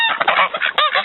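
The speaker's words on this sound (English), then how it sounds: "Here's my ducks." Ducks wintering in a makeshift shelter on a homestead during a polar-vortex cold snap honk in a quick, loud burst of several nasal calls close by.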